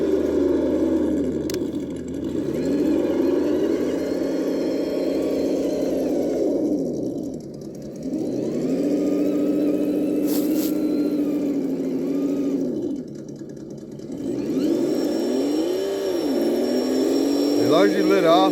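Traxxas TRX4 high trailer edition RC truck with metal axles, its electric motor whining in a steady loud drone as it drives, pitch dipping and rising with throttle in repeated swells, close by.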